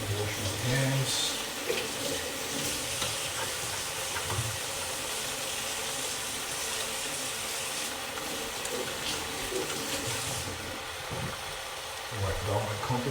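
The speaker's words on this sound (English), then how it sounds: "Just gonna put this in, wash my hands." Tap water runs steadily into a sink with a continuous hiss and splash, with a slight shift in the flow near the end.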